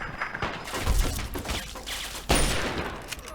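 Bursts of gunfire in the video game Fallout 3, loud and dense rapid shots, with a heavy blast partway through and continuous firing throughout.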